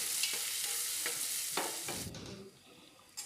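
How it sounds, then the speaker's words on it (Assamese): Sliced onions with a pinch of sugar fry in a pan for chicken pulao, a steady hiss broken by several scraping stirs of a spatula, close up with no talking. "পিঁয়াজখিনি দি দিছোঁ। এইখিনি ভালদৰে লৰাই দিছোঁ।"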